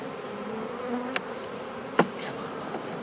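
Honeybees hum softly and steadily around an open hive during a spring inspection while the queen is marked and a split is made, with a couple of short sharp clicks from handling the frames.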